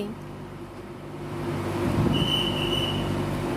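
Airport Rail Link train at Phaya Thai station in Bangkok, a low steady rumble of the carriages that swells midway, with a thin high wheel squeal briefly ringing above it.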